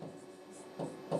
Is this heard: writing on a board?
yes